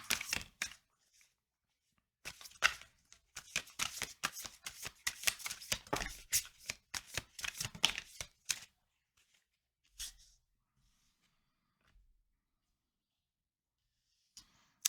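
Tarot cards are shuffled by hand in a quick burst of crisp riffling and slapping that lasts several seconds close to the listener, then a few isolated soft taps follow amid quiet, with no talking.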